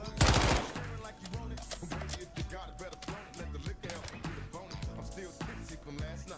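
Gunfire in Call of Duty: Warzone opens with a sharp loud burst, then continues as a steady run of rapid, evenly spaced shots mixed with game sounds.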